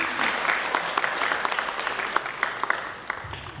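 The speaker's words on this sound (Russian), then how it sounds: "Ваши аплодисменты." A seated audience at a speech gives a short round of steady applause, moderately loud and fading slightly near the end.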